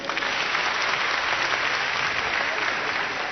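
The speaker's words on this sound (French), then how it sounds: "Est-ce qu'on peut s'applaudir?" Audience applause fills the room, a dense, steady burst of clapping from a crowd at a New Year 2018 show, loud and continuous for a few seconds.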